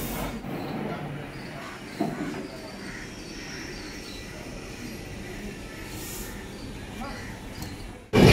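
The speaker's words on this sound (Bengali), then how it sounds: "তো ট্রেন সবে বোলপুর শান্তিনিকেতন থেকে ছাড়লো" The Shatabdi Express pulls out of Bolpur Shantiniketan station, a low, steady rolling rumble with a faint hiss and a sharp clank partway through, heard from on board.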